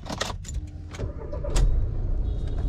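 A car being boarded and driven off: a few sharp knocks and thumps of getting in, then the engine rising into a steady running rumble, close by with no talk.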